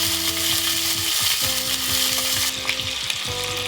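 Chicken pieces sear in a soapstone pot for a Minas-style galinhada, a loud continuous sizzle and spatter close up, with stirring scrapes and clinks over the frying and no talk.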